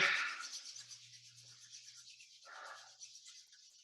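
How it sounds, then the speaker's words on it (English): Palms of the hands rubbed together during a qigong class, a soft brushing friction that is strongest at the start and then returns in a few fainter strokes, close and otherwise quiet. "And then rub the palms together."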